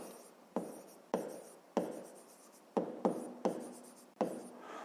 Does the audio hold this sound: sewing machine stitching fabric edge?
no